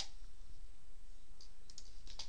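Faint, sparse keyboard clicks as code is typed into a computer to program a PID controller, with a few light taps standing out from a steady background hiss.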